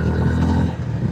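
A 2025 Honda Hness CB350 motorcycle engine pulls in third gear on the road, a steady low rumble that holds throughout without pauses, heard up close over a short stretch.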